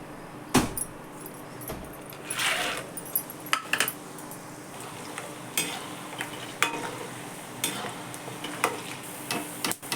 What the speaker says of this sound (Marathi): आता आपण खोबरं शेंगदाणे ते तळायला देऊ